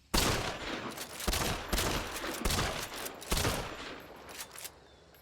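Three loud gunshots from a Marathon rifle in Hunt: Showdown crack out roughly a second apart, each trailed by mechanical reloading clatter and a fading echo, with no voices.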